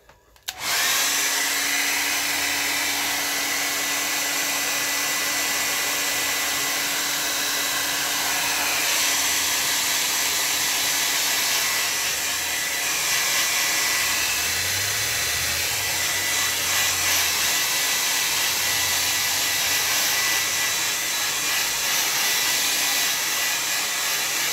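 A hair dryer blows steadily on a watercolor painting of a bridge, church and water, a loud constant whooshing hum running unbroken for the whole stretch.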